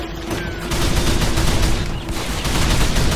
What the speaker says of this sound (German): Guter Schuss, Holmes!